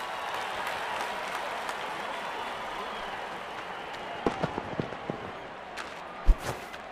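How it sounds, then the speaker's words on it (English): A cricket stadium crowd applauds and cheers in a steady, distant roar after a wicket falls, with a few sharper claps and thuds near the end. "And there comes the celebration, and the crowd loves it."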